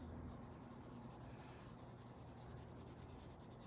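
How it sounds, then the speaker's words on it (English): A pencil presses heavily as it shades a still-life drawing on paper, giving a steady, close, continuous scratchy rubbing with no talk. "So I'm pressing a lot heavier with my pencil right now."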